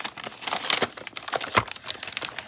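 Paper packaging around a Franklin-Christoph Model 03 Antique Glass fountain pen crinkles and rustles up close as it is unwrapped, in a steady run of crisp, uneven crackles with a few sharper tearing bursts.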